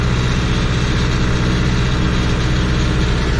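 A John Deere 2850 tractor hauls a 2.1-metre cultivator through wet, soggy field soil, its diesel engine a loud, close, continuous low rumble with a steady pulsing beat and no voices.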